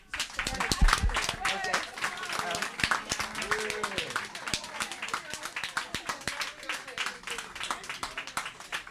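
An audience claps for a donor at an emergency communications gathering; scattered, uneven hand claps mix with voices talking throughout, the clapping loudest at the start and thinning out after.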